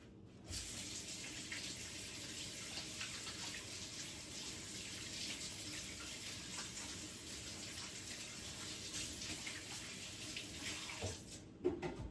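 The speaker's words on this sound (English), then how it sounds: "let me wash my hands real quick" Water runs steadily from a tap as hands are washed beneath it in a home kitchen, a constant broadband gush for about eleven seconds before it cuts off with a few small clatters at the end.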